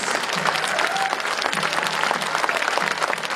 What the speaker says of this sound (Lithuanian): Jūsų aplodismentai